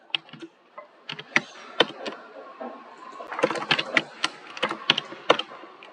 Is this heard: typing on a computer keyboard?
yes